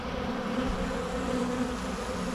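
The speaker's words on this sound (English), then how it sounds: "look at these bees, how big they are" Honey bees at a hive drone in a dense, continuous buzz of many insects, close and loud, with no voices over it.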